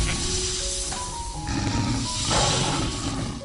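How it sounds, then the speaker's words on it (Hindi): A lion's fierce roar echoes through a forest, a loud, rough, sustained growl mixed with tonal sound-effect layers that swell toward the middle of the stretch. "कुछ ही पल बीते थे कि पूरा जंगल शेर की भयंकर दहाड़ से गूंज उठा"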